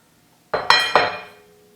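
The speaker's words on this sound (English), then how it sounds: "Then you take a Dutch oven," Heavy Dutch oven pot being handled, giving three quick metallic clinks close up, each ringing briefly before fading into quiet.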